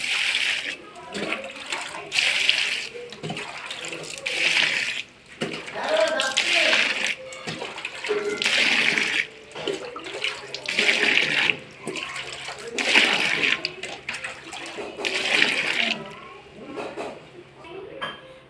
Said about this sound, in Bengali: শাকে প্রচুর বালি কাদা বালি আছে পাঁচ থেকে ছবার এই শাক ধুতে হবে আমার